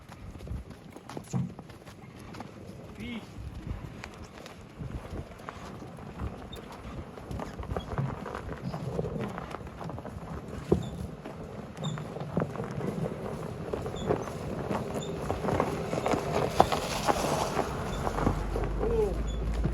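Ukrainian heavy draft horses walking, with intermittent hoof clip-clops over a noisy outdoor background; people talk occasionally, and the hoofbeats sit fairly far off and faint.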